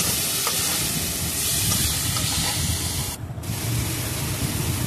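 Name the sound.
stir-frying drumsticks with spices in a pan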